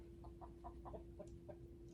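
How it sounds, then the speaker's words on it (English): Rooster and chickens clucking: a quick series of soft, rhythmic clucks, fairly faint and slightly distant, over a low steady hum. "I don't know what the rooster and chicken are doing"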